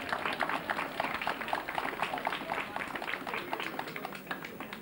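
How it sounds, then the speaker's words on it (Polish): Thin, scattered clapping from a small crowd at a 1999 half marathon awards ceremony, a steady patter that holds for several seconds at moderate distance with no talk over it. "Anemiczne te brawa, proszę państwa"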